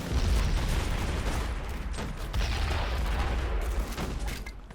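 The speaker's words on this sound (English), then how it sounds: "blow an opening up here in the wall on the left wing here" A wall is blown open in the Born in the Fire: America mod of a Battle of Bunker Hill battle, a dense roar of rumbling explosions and crackling musket fire rolling on without pause.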